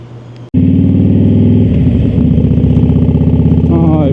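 Loud motorcycle engine fitted with a TCMT windshield vent starts abruptly and runs steadily close by, a strong continuous throb that rises slightly in pitch near the end.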